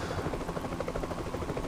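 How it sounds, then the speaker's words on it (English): An Mi-26 transport helicopter in the Eurofighter EF2000 combat flight game gives a faint, steady rotor thrum with a low rhythmic pulsing throughout, heard alone without talk. "Apart from those Cobras, there is some Mi-26 enemy transport helicopters."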